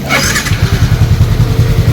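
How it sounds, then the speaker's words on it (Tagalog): A Yamaha Sniper 155 motorcycle engine starts up close and loud, catching with a burst and then settling into a rapid, steady pulsing idle. "Andarin natin muna yung motor."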